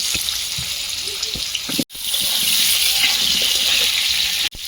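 A loud, continuous hiss of potatoes frying in hot oil, close up, with two brief dropouts and faint clatter underneath.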